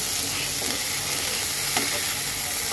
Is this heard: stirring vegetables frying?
yes